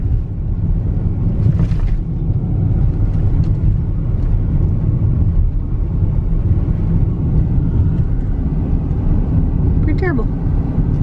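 A car drives along a road near Moab, Utah, heading toward a remote campsite. A loud, steady low rumble of engine and road noise runs unbroken from start to finish.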